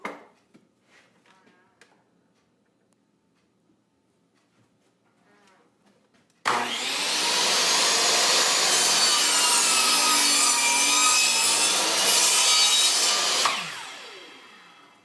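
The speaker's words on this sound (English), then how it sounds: "we're going to go to the miter saw and we're going to make a cut" A miter saw cuts wood for a birdhouse roof: after a few seconds of quiet handling noise, a loud, sustained whining cut runs for about seven seconds, then spins down.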